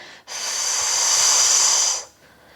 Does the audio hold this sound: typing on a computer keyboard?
no